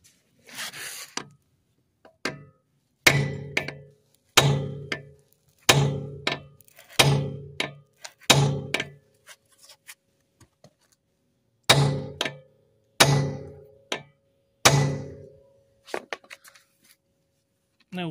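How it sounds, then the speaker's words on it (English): Hammer blows drive a locking wheel nut removal key into shape on a high-security wheel nut, about a dozen sharp metallic strikes in uneven clusters with short pauses, close and clear with no talking. "I'll do that by hammer."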